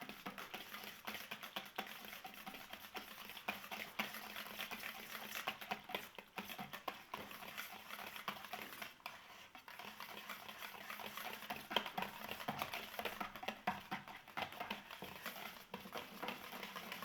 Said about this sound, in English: Start whisking.